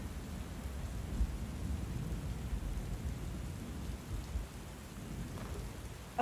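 Steady rain with low rumbling thunder in a video game, a continuous wash of rainfall at moderate loudness with no voices.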